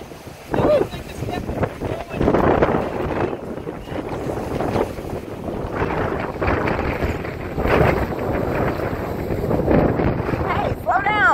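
Hurricane Irma wind gusting through a storm-damaged neighborhood, a rough, buffeting roar over the microphone that surges and eases, with someone talking to his dogs over it.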